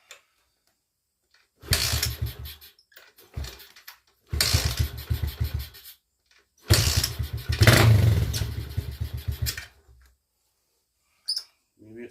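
A Kawasaki KLX110 dirt bike with the choke off is kicked over repeatedly, catching and sputtering in short loud bursts of uneven, popping engine noise before dying between attempts.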